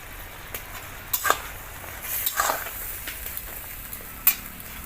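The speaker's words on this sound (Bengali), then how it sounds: "কুচানো পেঁয়াজটা দিয়ে দিচ্ছি" Chopped onions are tossed into a pan already frying eggplant in oil, giving a soft, steady sizzle near the mic. A few sharp clinks and stirring scrapes break through it, and no one speaks.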